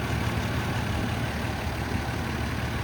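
A 1993 Toyota Land Cruiser FZJ75 Troopy engine idling, a steady low rumble with an even pulse, close by and constant throughout with no voices.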